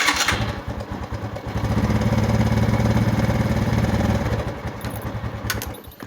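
A Tiger Megapro motorcycle engine cranks, catches and settles into a loud, close idle that pulses steadily for several seconds before the revs drop and it begins to fade.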